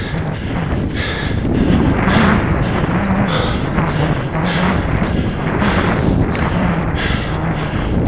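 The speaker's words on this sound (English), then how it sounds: "Stay away, wind." Steady wind roars on an open fell, a loud continuous rush with gusty swells that rises and falls throughout, with no voices.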